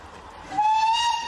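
A steam train whistle sounds in a short, bright, sustained tone rising out of a quiet rumble of the train, heard clearly for about a second.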